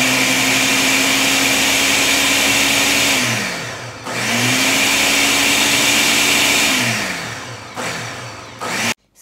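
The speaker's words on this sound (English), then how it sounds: "I'm just gonna pulse my blender until it's all mixed." A blender mixing eggs and sugar runs in two loud pulses, its motor whirring up, holding, then winding down, followed by a couple of short bursts at the end.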